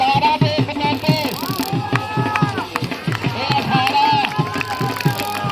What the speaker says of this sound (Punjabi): ਇਹ 3 ਜਨਾਬ ਢੱਗੇ ਦੀ ਦੌੜ ਸ਼ੁਰੂ ਹੋ ਗਈ ਹੈ।